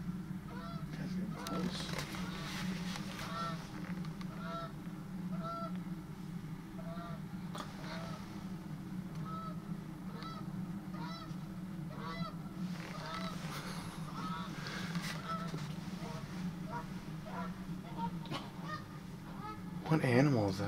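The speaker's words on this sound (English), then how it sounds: "I think it's a Canadian goose." Canada geese honk repeatedly in a park, a flock calling in irregular bursts at mid distance over a steady background rumble.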